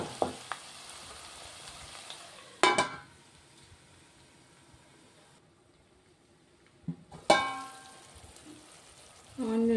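Drumstick (moringa) pieces frying in a tomato curry, with a steady soft sizzle broken by a few louder bursts of stirring and scraping in the pan.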